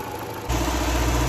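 A Chevrolet Cruze engine idles with the dipstick pulled out, a steady close-up mechanical hum that grows abruptly louder partway through and stays constant.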